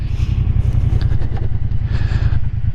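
A 2022 Triumph Bonneville Bobber motorcycle downshifting while riding, a loud, close, low engine rumble with a throbbing exhaust beat and slight rises in revs, heard alone.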